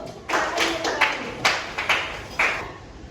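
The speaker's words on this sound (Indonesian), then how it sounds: "Tepuk tangan dulu." A small group of students in a classroom claps hands in a few short, uneven bursts with gaps between, moderately close, no talking over it.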